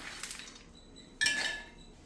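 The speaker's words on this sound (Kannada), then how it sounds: "ಈಗ ನಾನು ಇದು ಹಾಕೊಳ್ತೀನಿ ಜಾರಿಗೆ" Roasted dry fruits tipped into a grinder jar, giving soft clinks and rattles: a light tap early on, then a brighter, louder clatter of pieces hitting the jar at about 1.2 seconds that fades quickly, all close and quiet.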